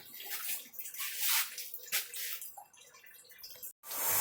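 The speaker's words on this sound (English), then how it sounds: "And now it's filling my tanks." Liquid pouring and splashing into tanks being filled with ethanol, a rushing gush that swells and fades with drips, fairly quiet and with no speech.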